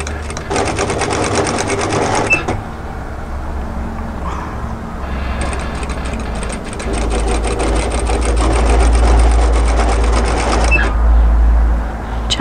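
Electric sewing machine stitching binding onto a peplum camisole top from the underarm point, a loud close rapid whirr in bursts with a short pause between runs.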